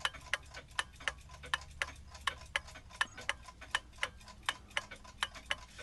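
An antique eight-day mantel clock movement runs on a test stand, giving a steady, evenly spaced tick-tock of about three beats per second. The ticks are close and moderately loud over a quiet background, with no voices.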